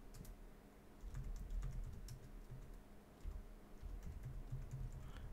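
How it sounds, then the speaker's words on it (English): Password being typed on a computer keyboard during a Linux Samba share setup, a quiet run of irregular key clicks and taps in bursts over several seconds, with no voices. "we're gonna type in our password"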